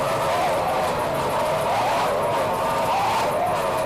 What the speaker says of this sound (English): Hydrotech race hull with three 260 horsepower Mercury outboard motors